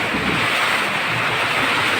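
Strong wind roars through a garden during rain, a dense, loud, continuous gusty rush with no voices.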